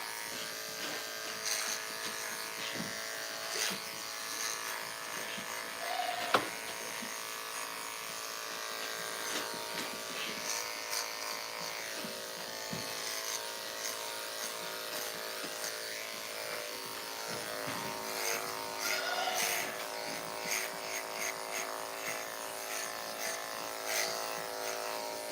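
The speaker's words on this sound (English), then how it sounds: "Sorry, Nisha, did not mean to shave you that close there." Electric clippers buzz steadily and continuously while shaving a goat's long back-leg hair, a close, even drone with small shifts in pitch and load as the blades move through the coat.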